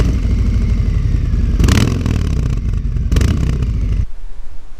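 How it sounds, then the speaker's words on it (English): A Harley-Davidson Sport Glide fitted with a TAB exhaust rumbles up close, swelling in two loud blips of revving before the engine note drops away abruptly near the end. "He may even cajole you with the rumble that tab exhaust makes."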